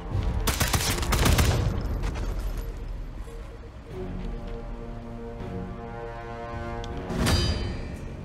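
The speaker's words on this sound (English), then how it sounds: "This SMG could do some damage. And it's silenced." Bursts of silenced SMG fire in Sniper Elite 5 come as a rapid rattling volley at the start, then a ringing tail and ambient hum, then another short burst near the end.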